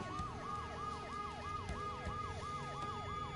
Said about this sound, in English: the ambulance's deafening siren